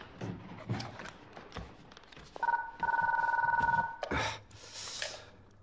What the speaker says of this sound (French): occupe-toi du téléphone